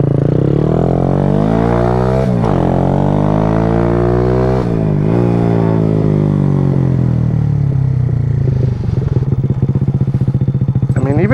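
A Grom clone small-displacement motorcycle accelerates on a road in light traffic, its engine note climbing in pitch through several gear shifts, each marked by a brief dip before the rev rises again, loud and close throughout.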